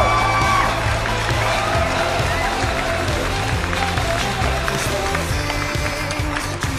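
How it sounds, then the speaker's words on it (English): Guests at a wedding reception clap and cheer as couples are introduced, steady applause with scattered whoops over loud thumping dance music. "Big round of applause. Let's give it up for Amanda and Paul."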